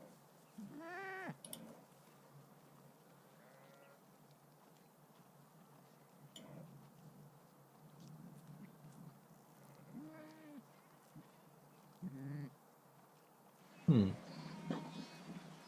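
Scattered bleats from a sheep sound faintly over a quiet room, a few separate calls spread out over time, with a louder thump near the end.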